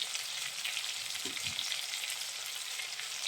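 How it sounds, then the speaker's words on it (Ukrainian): Onion frying in a pan alongside pearl barley, vegetables and chicken, a steady close hiss of sizzling fat running throughout, with a brief low clunk of stirring near the middle. "зараз трошки цибулька теж підсмажиться і додатимемо овочі"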